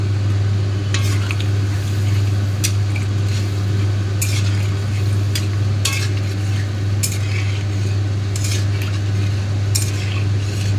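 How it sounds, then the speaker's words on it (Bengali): Spiced potatoes in a pot being stirred after water is added for an old-fashioned egg omelette curry: steady bubbling wash with scattered utensil scrapes and clinks against the pot, close and continuous, no talking. "পরিমাণ মতন জল দিয়ে আলুটাকে আমরা সেদ্ধ করতে দিয়ে দেবো"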